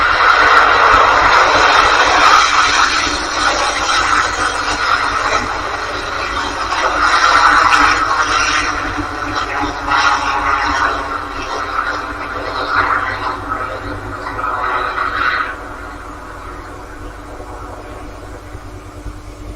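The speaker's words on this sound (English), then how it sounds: "Electron is back in the skies heading to orbit" Roar of an Electron rocket lifting off from New Zealand during the M2 Pathfinder launch, a dense, broad rumble that holds steady and loud, swells around the middle, then drops somewhat toward the end, with no talk over it.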